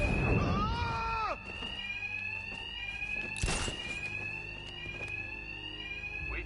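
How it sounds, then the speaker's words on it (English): Fire alarm ringing in a Batman video game, a continuous high electronic tone that holds steady throughout, with a heavy thud and a few sharp knocks punctuating it. "Two-Face's thugs won't hear me over the alarm"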